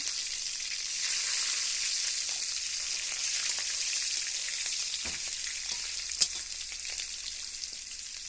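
Cumin seeds, bay leaf and green chilli frying in hot oil, a steady close crackling sizzle that runs continuously, with a few sharp pops and a faint stir partway through.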